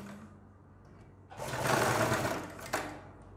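Sewing machine stitching a strip onto a garment neckline, a short loud whirring run of about a second and a half starting after quiet handling, ending with a brief click.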